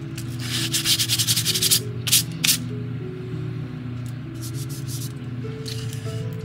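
Hand sanding with sandpaper on a 1:400 scale model of the S.S. Edmund Fitzgerald: quick, raspy back-and-forth strokes in bursts, close up, over a steady humming background.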